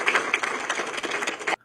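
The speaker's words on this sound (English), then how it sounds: "See, they agree with us. They're clapping." An audience applauds with dense, steady clapping for about a second and a half before it cuts off abruptly into silence.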